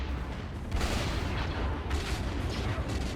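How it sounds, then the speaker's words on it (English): An ion cannon in Stellaris fires with heavy booming blasts, deep rumbling discharges arriving in a couple of loud surges that sustain and roll off. "That's an ion cannon."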